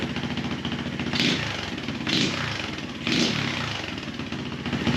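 Chinese Xpro dirt bike engine idling with no throttle, a steady close putter with three short surges roughly a second apart, no talking.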